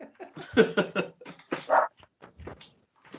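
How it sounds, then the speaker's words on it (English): A dog at a workplace meeting yips and whimpers in short bursts, with brief bark-like sounds, fairly close and loud in a quiet room. "who brought the dog to work?"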